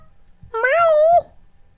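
A house cat lets out a single drawn-out, wavering meow, close and loud, lasting about half a second amid faint background thumps.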